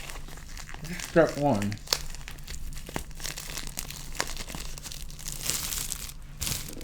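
A Pokemon collector box has its plastic wrap and packaging torn open, with soft crinkling and tearing throughout, mostly faint, under a person speaking briefly.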